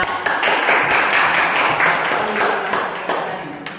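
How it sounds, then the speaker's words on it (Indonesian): Students in a physics classroom clap together for a classmate, the claps close and loud with a loose rhythmic pulse of distinct hand strikes running through the dense clatter. "beri tepuk tangan kepada"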